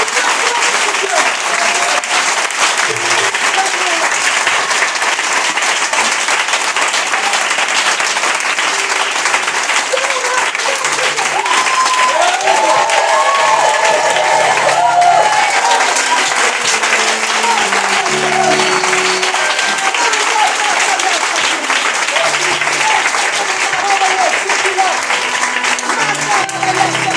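Congregation at a Bethesda worship service applauding and cheering for God, a loud, sustained wall of clapping and crowd noise that fills the whole stretch without a break.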